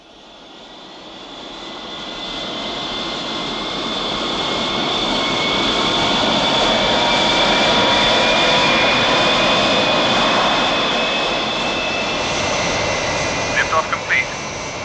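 A rocket lifting off in the UFO TV series, a roaring jet-like rush that swells from quiet to loud and holds, with a high whine riding on top and brief clicks near the end.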